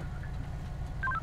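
An in-game phone in a GTA police roleplay gives a quick cluster of short electronic beep tones near the end, heard faintly over a steady low rumble.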